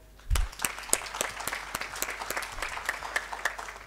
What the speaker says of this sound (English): A round of applause to Mr.